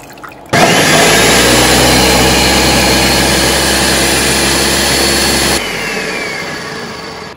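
A loud, steady whirring grind from an electric mixer grinder blending mint chutney with a little water runs for about five seconds, then drops off as the motor winds down.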